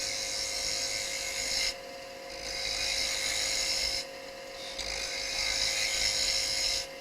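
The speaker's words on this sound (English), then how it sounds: "So I'm doing the cutting with this portion of the edge just to my left of the nose" A wood carving gouge, rolled over about 45 degrees, slices into a wooden birdhouse ornament from the center out to the rim, giving a steady scraping hiss in long continuous strokes with brief pauses between cuts.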